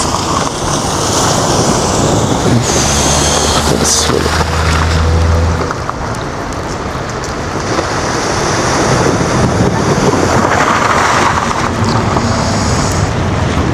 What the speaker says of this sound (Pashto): دا اوبه ټول ورسره روانې دا ټوله د غرو اوبه دي